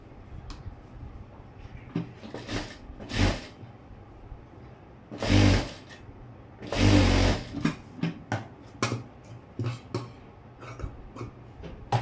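A sewing machine runs in several bursts as a hook strip is stitched onto a blouse front, with some short runs and some longer whirring runs. Quiet handling clicks fill the pauses between them.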